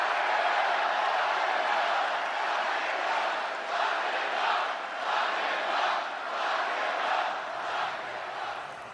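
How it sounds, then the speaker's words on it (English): A large crowd at a political rally in Florida chants in unison, a loud, rhythmic roar of repeated pulsing phrases that fills the space and carries on without a break. "That's the crowd at President Trump's rally in Florida last night, erupting in chants of lock him up"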